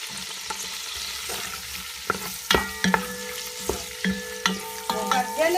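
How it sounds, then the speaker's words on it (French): Onions frying in clarified butter (samli), a steady close sizzle broken by sharp clanks and scrapes of a utensil stirring in the pan, the knocks coming in quick irregular clusters. "Je vais rajouter les oignons."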